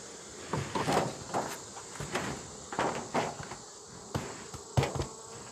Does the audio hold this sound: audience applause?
no